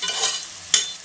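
Chopped tomatoes sautéing in a pan for a mushroom gravy give a steady soft sizzle and frying hiss, with one brief louder stir or scrape of the pan near the end.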